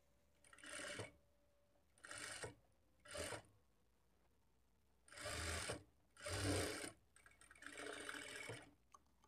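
A sewing machine sews a shaped blouse belt in about six close, rapid bursts of stitching, with short quiet gaps between runs.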